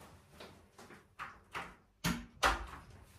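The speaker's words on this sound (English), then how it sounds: "I might shut the door" A door is shut indoors with a few soft shuffles and knocks leading up to two firmer thuds of it closing, quiet and close.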